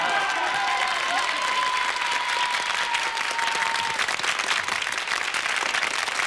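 Studio audience on a French hidden-camera TV show applauds steadily, a dense, loud wash of clapping with a few whoops rising over it in the first few seconds.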